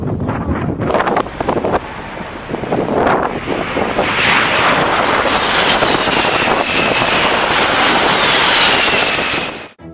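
A Russian fighter jet's engine roars during takeoff, a loud, dense jet rumble with a rising whine that swells and holds near the microphone, mixed with heavy wind buffeting, then cuts off abruptly at the end.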